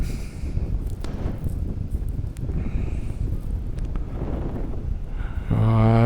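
Steady, rough wind buffeting the microphone during a paraglider flight over Granville, broadband and continuous, with a brief tonal engine-like sound rising at the end.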